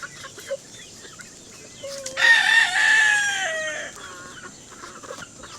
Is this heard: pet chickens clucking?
yes